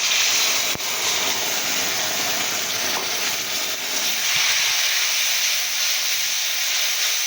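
Ridge gourd paste sizzling and hissing in a hot frying pan of oil, a loud steady crackling fry that softens slightly toward the end, with a faint stir or two and no voices.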